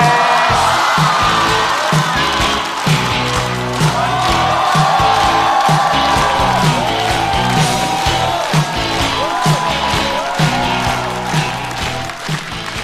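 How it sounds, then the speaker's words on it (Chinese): Studio audience at a Chinese stand-up comedy show applauding and cheering to welcome comedian Ruirui, a loud, continuous wash of clapping with scattered whoops, no talk. "让我们掌声欢迎瑞瑞"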